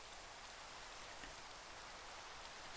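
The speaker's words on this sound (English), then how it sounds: "It's raining." Minecraft rain falls as a soft, steady hiss of broadband patter, faint and unchanging throughout, with no voices.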